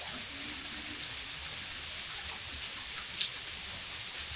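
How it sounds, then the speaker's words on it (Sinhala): Rain falls in a soft, steady patter, a fairly faint even hiss with scattered drop ticks and no voices over it. "වහිනවනේ වහිනවද"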